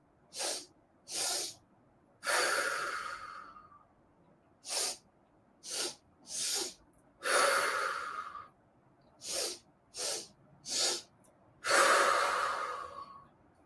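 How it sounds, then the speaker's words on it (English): Repeated rounds of a yoga breathing exercise, each made of quick, close nasal sniffs followed by a longer, airy exhale through the mouth, with silent pauses between breaths. "3 short sniffs, 1 exhale through the mouth"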